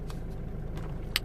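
Mercedes A170 W168 engine running at idle while a brake and stability warning fault is being checked: a steady low, even hum close by with a couple of faint light clicks on top.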